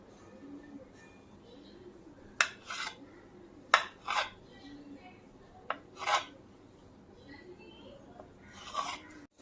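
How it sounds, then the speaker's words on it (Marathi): A knife cutting through a rolled log of karanji dough on a hard surface, several sharp clicks and short scraping strokes spaced a second or so apart, quiet and close with faint kitchen background. "आपण आता चाकूने कट करूया"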